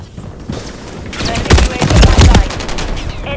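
Rapid gunfire in the video game Modern Warfare 3, with dense automatic bursts and sharp shots building to a loud peak over game voice callouts.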